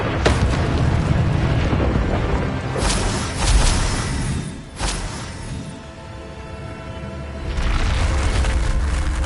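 Incendio fire spells cast in Hogwarts Legacy go off as several loud, roaring blasts with whooshing bursts, separated by short lulls before another heavy eruption.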